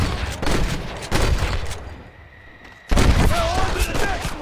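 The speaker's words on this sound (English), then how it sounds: "We're gonna shoot the whole gang." Video game gunfire in Red Dead Redemption, several loud close bursts of shots and booms, a short quieter lull, then another heavy volley of firing, with voices mixed in.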